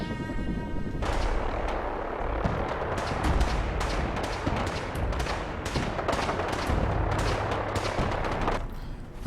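Fallout 4 gunfire erupts in rapid, dense bursts and continuous automatic rattling, loud and close, with a few heavier booms mixed in over about nine seconds, and no speech.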